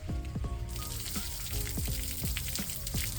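Water poured over LECA clay pebbles to rinse off clay dust, a loud continuous splashing pour with gurgling, bubbly pops and trickles heard up close, alone with no voices.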